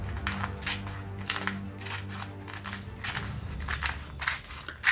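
Scissors snip through a plastic comic bag in a series of quick, close crinkly cuts, each a short sharp rustle in an uneven rhythm, fairly quiet with nothing else over it.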